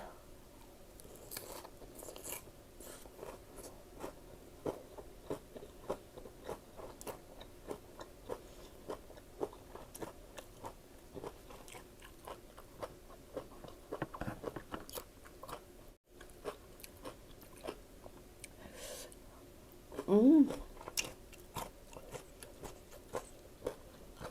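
Someone chewing and biting crunchy raw vegetables at a meal, steady close crunching and mouth clicks repeating over about twenty seconds, with one louder crunch near the end and no talking.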